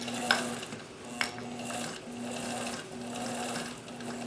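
A sewing machine runs over a thick seam on jeans in short steady bursts of needle clatter, close up, with a couple of sharp clicks early on.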